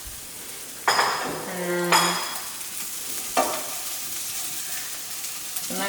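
Eggs are stirred while frying in a pan with cooking oil: a utensil scrapes in short irregular strokes over a soft, steady sizzle, close by, with a single brief spoken word.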